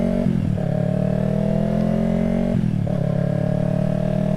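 A Yamaha R3 sport motorcycle with a larger rear tire running, its engine droning steadily and loudly up close, with a brief dip and return in pitch partway through.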